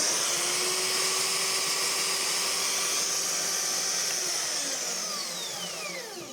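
A Scheppach MBS1100 metal band saw switched on by its on-off switch, producing a steady whining motor hum with a high-pitched tonal drone and a slight sweep, fading somewhat toward the end.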